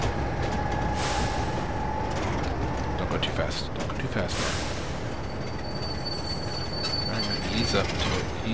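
Train wheels squeal in Train Simulator 2013 as rail cars ease together for coupling, a steady screech running the whole time beneath continuous rail rumble while someone talks over it.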